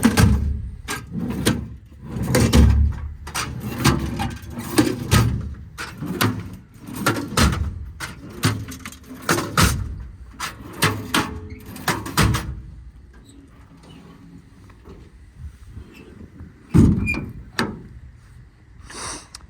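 Drawers with twist locks on a 2022 Ford F-550 crew cab work truck are pulled open and pushed shut, giving a run of close metallic clunks, slides and latch knocks. Quieter handling noises follow after a pause, with one more sharp knock near the end.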